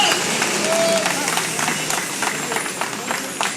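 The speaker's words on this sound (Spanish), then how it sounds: "Les pido un fuerte y caluroso aplauso para el profesor" A crowd claps at an outdoor protest march at Placita Olvera, with dense, irregular hand claps and crowd noise continuing for a few seconds.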